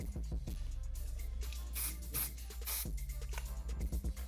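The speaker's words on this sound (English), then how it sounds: "and spray it so it can stay on there." Short hissing bursts of Got2b hairspray repeat at close range on hair, several quick spritzes over a few seconds with soft handling noises between.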